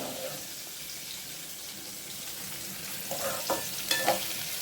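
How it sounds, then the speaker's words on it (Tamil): Bitter gourd sautéing in oil in a pan over low heat, a soft continuous sizzle with a few brief stirring clatters and scrapes near the end. "இது வதங்கட்டும், சிம்மில் இருக்கட்டும்."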